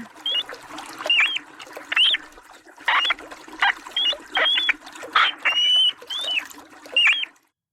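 A muskrat gives a series of short, squeaky honking calls repeated irregularly over several seconds, nasal and fairly close, with no talking.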